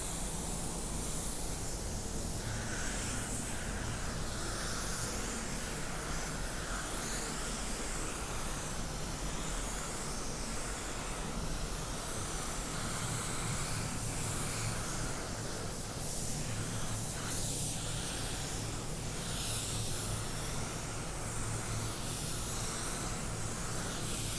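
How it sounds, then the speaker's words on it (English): A steady, continuous hiss of a spray gun applying car paint, broadband and unbroken for the whole stretch, close and fairly loud. "always, I do a spray out as I spray"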